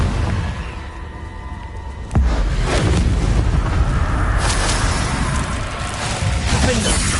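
A Confringo blasting curse explodes in the video game Hogwarts Legacy, a sharp boom that gives way to a loud, sustained rumble and crackle amid dense game noise.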